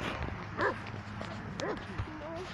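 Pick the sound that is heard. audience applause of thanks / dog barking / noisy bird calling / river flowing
dog barking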